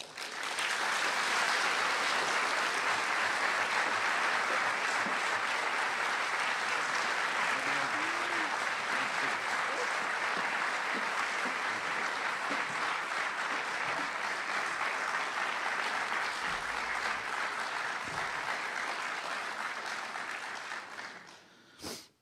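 Sustained, loud applause from a large audience welcoming Christopher Hitchens to the stage, steady for about twenty seconds before tapering off abruptly at the end.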